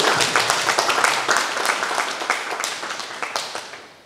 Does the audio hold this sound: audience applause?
yes